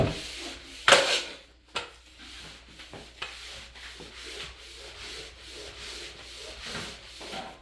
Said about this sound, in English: then you scrub all the surface